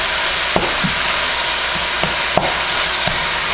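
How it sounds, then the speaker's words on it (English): Ground beef for a beef lasagna browning in a pan while being stirred and broken apart, with a steady close sizzle and a few distinct scraping clicks from the utensil. "just make sure you are mixing everything together as you are breaking that meat apart"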